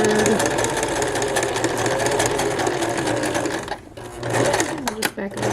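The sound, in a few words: sewing machine stitching a horsehair hem on a formal dress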